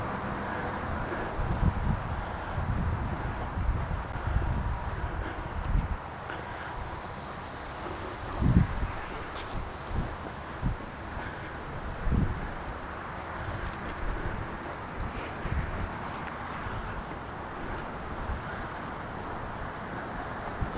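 Steady wind gusts across an open field while a sport kite flies, with buffeting rumble on the microphone rising and easing throughout and no voices.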